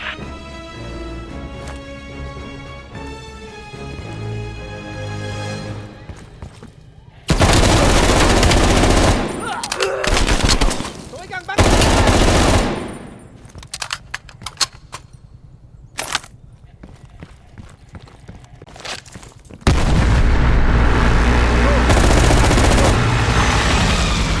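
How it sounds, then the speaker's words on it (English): Heavy gunfire and explosive artillery bursts in Call of Duty: Black Ops Cold War, with loud, dense volleys and booming blasts that come in waves between quieter stretches of score and battlefield rumble. "we are still under heavy fire"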